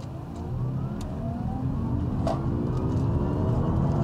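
A Honda e:NS1 electric car in sport mode with regeneration off accelerates hard from 0 to 100, a rising electric motor whine building over loud road and tyre rumble inside the cabin.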